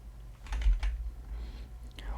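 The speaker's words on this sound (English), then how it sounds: "it's a pretty easy command to type in the terminal anyway" Quiet, close keystrokes on a computer keyboard as a command is typed into a terminal: a few soft clicks in a brief run, with a faint murmur of voice underneath.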